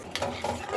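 Pieces of fish slide into hot oil in a pan, giving a short burst of crackling sizzle with faint stirring and metal scrapes, close and quiet, no talking.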